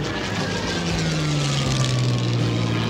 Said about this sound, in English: the silhouette of the Swiss plane is seen, immediately followed by a dune buggy